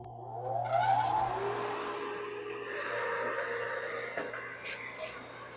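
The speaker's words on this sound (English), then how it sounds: "I'm going to fire up the sander and get some of these sanded" Power sander starting up and running steadily on wooden rocking chair parts, a continuous whirring drone with a rising start near the beginning, fairly close and loud throughout.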